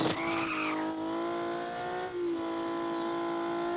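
A car engine whines at a steady high pitch while tires squeal continuously, like a drifting racing car in a game, loud and close with no talking.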